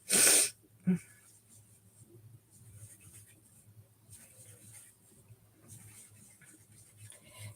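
A single sharp sneeze bursts out near the start, followed by a brief catch of breath, then quiet breathing and faint room noise.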